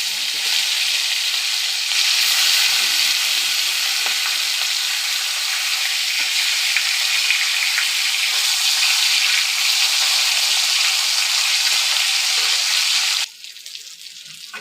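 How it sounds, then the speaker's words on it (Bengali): Hilsa fish heads frying in hot oil in a wok give a steady, bright hissing sizzle that runs continuously and close, dropping off sharply near the end. "দেখো, আমি মাথাগুলো ভেজে নেব।"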